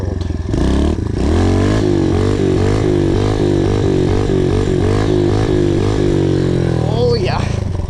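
Pit bike engine revving hard during wheelie practice, loud and close, its pitch rising and falling in repeated surges before it drops away near the end.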